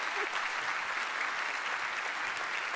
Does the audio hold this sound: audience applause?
yes